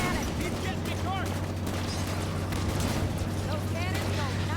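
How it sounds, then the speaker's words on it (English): Loud, continuous cannon fire and explosions in the video game Halo 5, a dense rumbling barrage with a steady low drone and bursts of whizzing effects, running under faint speech throughout. "Those cannons go nice and loud"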